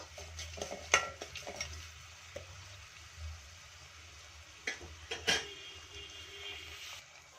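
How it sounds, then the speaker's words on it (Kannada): Onion and tomato, salted, being stir-fried in a pan for a ridge gourd dal: faint, sparse scrapes and clinks of a spatula over a quiet low hum, with a few sharper knocks scattered through. "ಉಪ್ಪು ಹಾಕಿರೋದ್ರಿಂದ ಬೇಗ ಫ್ರೈ ಆಗುತ್ತೆ ಈರುಳ್ಳಿ ಟೊಮೊಟೊ"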